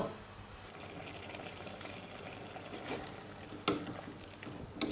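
Bamboo shoots boil in a pot of water for a Thai-Isan soup, giving a steady low bubbling hiss with a few louder pops and splashes near the end, with no talking.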